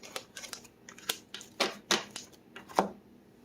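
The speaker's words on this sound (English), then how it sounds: "for some reason I feel like I need to shuffle this one." Tarot cards being shuffled by hand up close, a quiet run of irregular crisp riffling snaps and taps with no voices over them.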